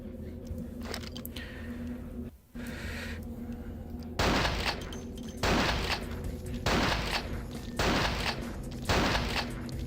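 Repeated gunfire in the vampire role-playing game Vampire: The Masquerade - Bloodlines, a string of loud regularly spaced shots over a droning game soundscape after a quieter opening stretch.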